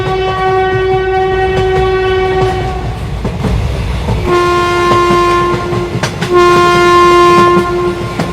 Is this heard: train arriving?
yes